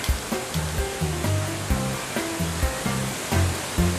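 Steady rushing waterfall in the video game Deadly Premonition, a continuous broad roar of falling water with faint low tonal game music underneath, no speech.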